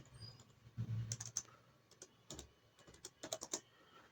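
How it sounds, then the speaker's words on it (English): Keys clatter on a computer keyboard as a software download search is typed on a PC, in quick uneven bursts of close, fairly quiet clicks with brief pauses and no voices. "So guys, you type this as it is over here."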